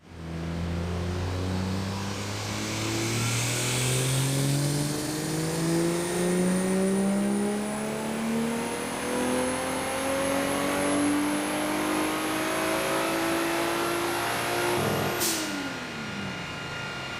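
On a dyno with a stock turbo, a car engine climbs through a long, loud, continuous rev, its pitch rising steadily and then cutting off sharply near the end with a brief burst of noise.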